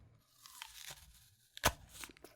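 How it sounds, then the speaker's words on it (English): A single crisp crunch as teeth bite into a fresh apple held close to a microphone, a sharp snap preceded by faint rustling and followed by softer chewing noises. "I actually want to hear the crunch and crisp."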